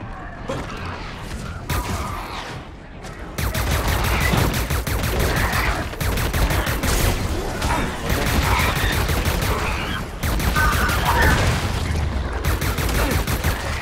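Dense bursts of gunfire in the video game Lost on Mars as the egg nests are shot, rapid and loud, hammering almost without pause after a brief quieter opening.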